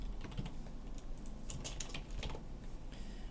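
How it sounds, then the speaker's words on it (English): Fingers tap out a product name on a computer keyboard while entering an item in point-of-sale inventory software, a quiet run of soft key clicks in uneven bursts, with a faster flurry midway and no talking. "So you just type in the name of the product."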